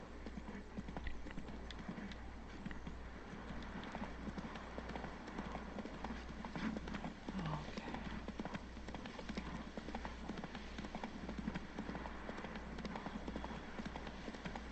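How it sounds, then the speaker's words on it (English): Hooves of a war horse clip-clopping steadily in The Witcher 3: Blood and Wine, a continuous close rhythmic trot over game music and ambience, with no voices. "You look like a proper mount. Proper war horse mount."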